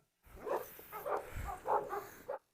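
A Doberman and a Cane Corso bark and whimper in a short run of yips and barks, moderately close, with no one speaking.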